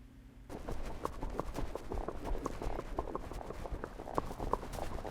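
Horse hooves clop on the ground in the quick, uneven broken rhythm of a foxtrot gait, steady and moderately near, with no talking.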